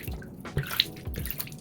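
Water splashing and dripping as a fenugreek face pack is rinsed off the face, with a few soft, close splashes and drips over a short stretch, no talking.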